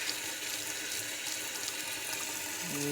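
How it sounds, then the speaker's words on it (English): Tap water running continuously over a part from a Yanmar 1500 tractor being rinsed off, a steady close splashing hiss with no talking. "run this under water just to get off any trash"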